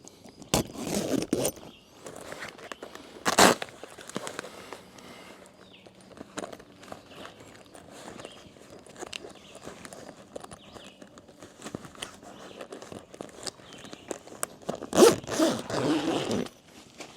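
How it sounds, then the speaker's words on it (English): Zippers on a Coody inflatable two-room camping tent drawn closed in a few quick, loud rasping pulls, separated by quieter rustling of tent fabric. "You want to get these two zippers"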